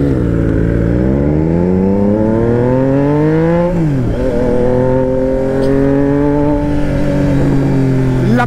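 A Triumph Trident motorcycle engine accelerates loud and close, its revving pitch climbing steadily through the gears, dropping at a shift, then rising again with no talk over it.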